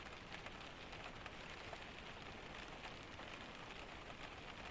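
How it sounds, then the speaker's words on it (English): Steady rain drums on a cabin through a Scandinavian storm, a dense, even hiss with soft scattered droplet patter, constant and close with no thunder or voices. "Keep listening to the rain."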